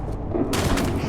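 Gunfire from a firefight in the video game Starfield, a dense burst of shots that thickens halfway through into a loud, sustained volley, close and continuous.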